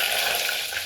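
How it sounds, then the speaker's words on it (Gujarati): Vegetables, including watery brinjal, hit hot oil in a pan for tempering, a bright continuous sizzle and crackle, close and loud, lasting under a second. "હા એમાં આપણે હે ને શાક વઘાર નાખીએ"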